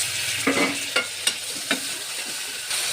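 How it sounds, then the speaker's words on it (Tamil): Tomatoes and onions with spices sizzle in a frying pan under steady hiss, while a spatula stirs and scrapes through the mixture in several distinct strokes at irregular intervals, close and moderately loud. "தக்காளி வெங்காயம் நல்லா வதங்கிடுச்சு"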